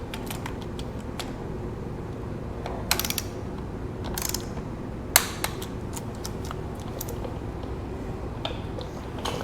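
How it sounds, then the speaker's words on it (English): A wrench torques T50 valve cover screws on a BMW R1200RT motorcycle, ticking in rapid ratchet clicks with a few sharper metallic snaps over a low steady background hum, close up. "Finally, we torque these valve cover screws, T50 screws."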